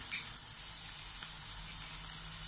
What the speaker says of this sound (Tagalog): Saka po muna natin gisahin ang ating sibuyas.